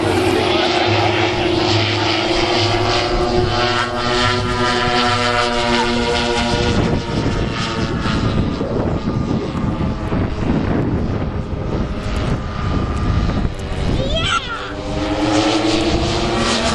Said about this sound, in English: This plane has a 20-foot wingspan, weighs just about 100 pounds. Again, it's powered by four 100cc motors.